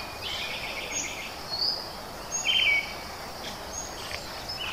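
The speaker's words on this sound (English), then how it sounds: "Birds are singing." Birdsong in a forest beside a waterfall, scattered high chirps and short calls over a steady, full roar of falling water, with insect buzzing in the background.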